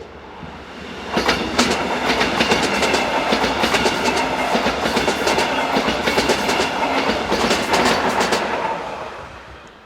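Locomotive 46005 hauls a passenger service from Emmerich to Koblenz, rolling past with loud, continuous rumble and steady clickety-clack of wheels over rail joints that swells and then fades.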